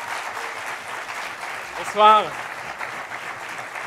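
A business school audience in Poitiers gives steady, dense applause to welcome a guest, and a single voice briefly speaks a greeting over the clapping midway through.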